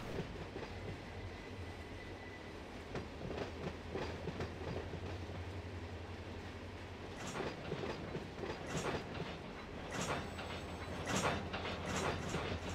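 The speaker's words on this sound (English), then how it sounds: "Hear the slack running back up through the train." Run 8 train simulator: a long freight train's slack runs back through the cars as the throttle eases off, giving a steady rolling rumble with clanks and coupler bangs building toward the end, no voice over it.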